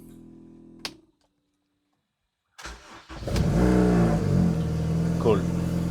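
A Honda Civic is started: a short low mechanical noise cuts out into silence, then the starter cranks briefly before the engine catches and settles into a steady, close idle with a slight rev, and a voice is heard.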